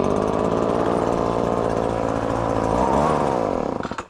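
A gas-powered leaf blower running during a yard leaf cleanup, a loud, close, steady engine drone that holds constant before dropping off as the throttle eases at the end.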